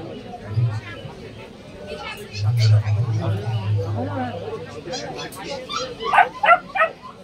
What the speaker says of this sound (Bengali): এটা হান্টিং ডগ